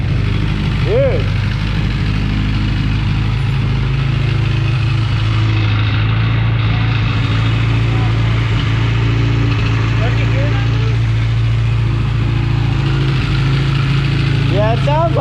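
A Honda Prelude engine idles steadily with a low, rumbling exhaust note throughout, while people talk over it.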